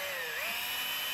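A power drill bores through aluminum trim into an RV wall, giving a loud, continuous high-pitched whine that dips and then rises in pitch partway through.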